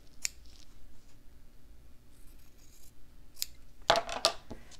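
Scissors trimming the edges of fabric for a slow-stitching craft project: a few faint snips early, then two or three crisp, close cuts near the end against a quiet background.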